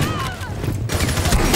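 Rapid gunfire strikes a bulletproof shield in Rainbow Six Siege, a dense stream of loud bursts running the whole moment, with a voice talking over it.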